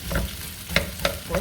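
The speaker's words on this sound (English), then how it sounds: "let's go ahead and open up our rice and dump it right down in there" Cooked rice dumped into a hot frying pan, with a short run of sizzling and several sharp scraping hits of a utensil against the pan, close up and alone.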